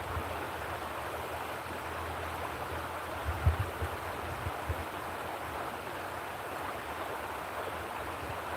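Steady creek water flows and babbles close by outdoors, a continuous broadband rush with a few soft knocks partway through and no talking.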